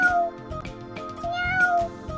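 Several cat meows in quick succession, close and clear, with soft musical tones running underneath.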